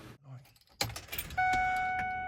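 Car keys jangle as the ignition key is turned on in a vehicle fitted with an under-grille LED light bar wired to key-on power; a sharp metallic rattle lands near the mic, then a steady electronic chime-like tone follows.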